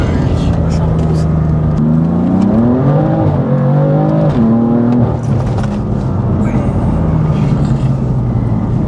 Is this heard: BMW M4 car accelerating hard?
yes